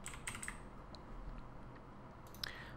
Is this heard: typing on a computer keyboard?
yes